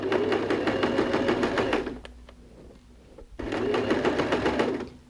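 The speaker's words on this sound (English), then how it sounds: "I'm just sewing from the right hand side like so, you can see the join there, and I'm sewing on the fold." Sewing machine stitching jersey stretch fabric along a fold, running in steady fast bursts with a short pause in the middle, close and loud, no talking.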